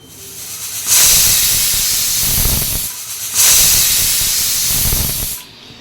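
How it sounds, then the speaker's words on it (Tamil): A pressure cooker on a medium flame cooking a Dindigul biryani kit lets out two long, loud hissing steam whistles, each lasting about two seconds, with a short low rumble between them. "மீடியம் ஃப்ளேமில் வச்சுட்டு 2 விசில் வர வரைக்கும் வெயிட் பண்ணுவோம்."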